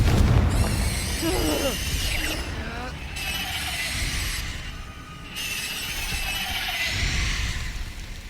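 Confringo fire spell blasting in the video game Hogwarts Legacy, a rumbling burst under rising and falling whooshing effects, with game music and a voice mixed in.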